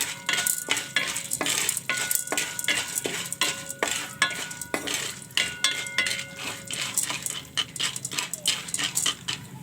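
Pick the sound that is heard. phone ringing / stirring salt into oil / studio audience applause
stirring salt into oil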